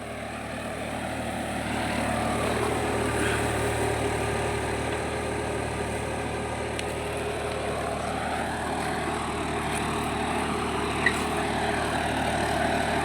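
A John Deere 5405 4x4 tractor pulls a Limkan reversible plough through a field, its engine a steady, near drone that holds evenly throughout with no voices.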